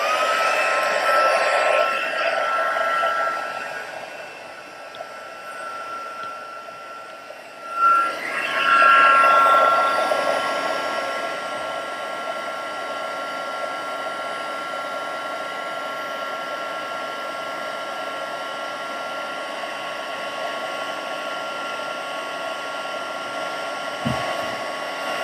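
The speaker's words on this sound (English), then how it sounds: "And I'm going to get my heat tool." Craft heat tool for stamping and embossing, blowing a steady, loud whirring stream of hot air. It dips briefly, surges back, then holds an even drone to the end.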